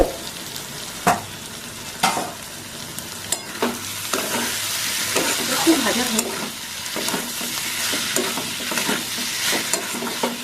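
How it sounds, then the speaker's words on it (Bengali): Spiced potatoes stirred and fried in a pan, a steady sizzle broken by repeated scraping knocks of a spoon against the pan, close and alone without talk. "ভালো করে কষিয়ে একটু ঢাকা দিয়ে দেবো"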